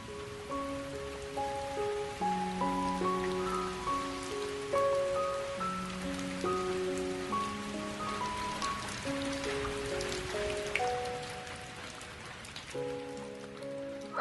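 Steady rain patters and splashes throughout, a constant soft hiss of drops on surfaces with a gentle piano melody playing over it and no voices.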